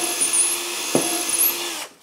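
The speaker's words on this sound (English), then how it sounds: "I'm now going to drill in this position." A close power drill runs with a steady high whine, briefly bogging down partway through, then cuts off abruptly near the end.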